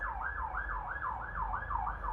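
An ambulance siren wails along a street in Bucharest, sweeping up and down in a steady repeating cycle, loud and continuous with no voices.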